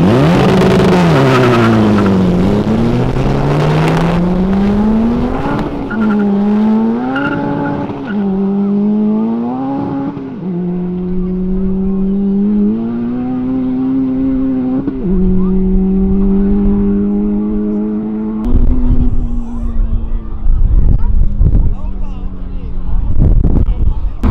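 Honda Civic Si and Civic VTi racing side by side at high speed in an amateur street race, engines rising and falling through gear changes with loud revving whine, excited voices talking over it.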